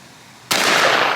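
A single sharp blast from an H&R .410 shotgun fired at a clay target outdoors, sudden and loud after brief quiet, with a trailing roar of echo.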